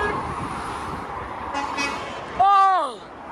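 A truck air horn, heard while spotting trucks such as a Scania, blasts one loud, close chord-like tone that bends downward before cutting off, over steady road traffic rumble with a brief voice beforehand.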